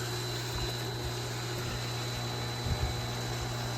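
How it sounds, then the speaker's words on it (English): A backyard pool pump runs after being switched back on with the filter valve set to backwash, giving a steady, close mechanical hum with a rushing water-like wash and a few slight bumps near the end. "Pump on."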